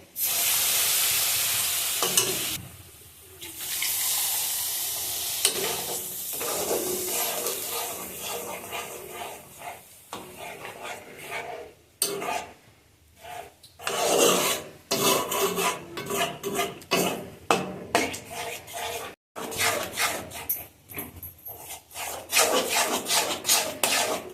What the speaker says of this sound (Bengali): এটা বারবার খুঁতি দিয়ে নাড়তে হবে যেন দলা বেঁধে না যায়